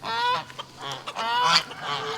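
Ducks on a homestead give several loud, nasal honking quacks in quick, uneven succession, close by and with no talking.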